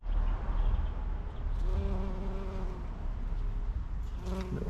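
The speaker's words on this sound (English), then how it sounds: "Little bee there" A bee buzzes on rosemary in a garden, a droning hum that rises out of steady outdoor background noise and holds for a few seconds.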